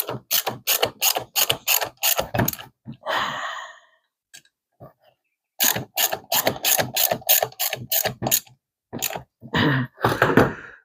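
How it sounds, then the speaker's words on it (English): A hand ratchet tightens bolts on the steering of a Simplicity Prestige garden tractor, with rapid bursts of loud, close clicking broken by short pauses and a breathy sigh. "Come on, frickin' ratchets. Okay, now let's tighten these up."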